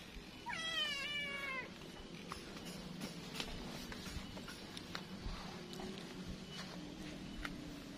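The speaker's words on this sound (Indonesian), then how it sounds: "Ada kucing." A cat meows once in a quiet Sundanese village, a wavering call near the start, then faint outdoor ambience of distant clatter and rustle.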